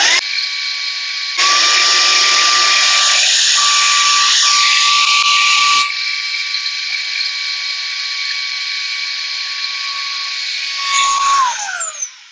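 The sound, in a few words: Ryobi P724B cordless stick vacuum running with brushes off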